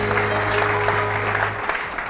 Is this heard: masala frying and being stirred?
no